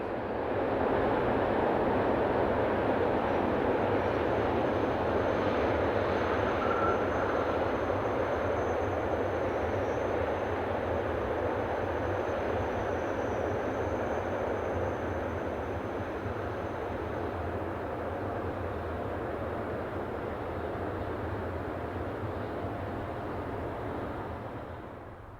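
An Adtrans Class 145 locomotive operated by RAG and a DB Class 232 diesel pass each other on a German line, a broad steady rumble of engines and rolling stock lasting the whole time before fading at the end.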